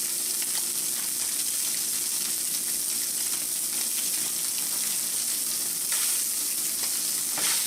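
SPAM slices frying on low heat in a pan give off a steady, close sizzle with constant hiss and occasional crackles, with no voices.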